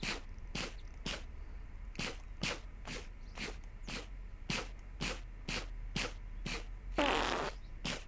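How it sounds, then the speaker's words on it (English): A rat in Minecraft gives off a series of short, evenly spaced farting blips, about fifteen of them at a steady rhythm, with a brief noisy burst near the end and no talking. "Farting rats, only in Minecraft."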